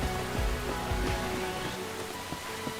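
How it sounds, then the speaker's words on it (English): Rain falling in the video game Enshrouded, a steady broadband patter with a few low rumbling thumps, heard alone without talk. "in the game right now it's raining"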